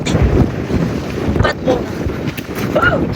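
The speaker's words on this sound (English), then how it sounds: "It's really windy." Strong gusting wind buffets the microphone at a New Zealand beach, a loud continuous rumble with surf behind it and brief voices talking underneath.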